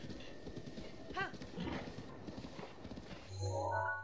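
A horse in the Zelda: Breath of the Wild video game trots with steady clip-clopping hooves, rhythmic and moderately loud, with a brief whinny and game sounds near the end.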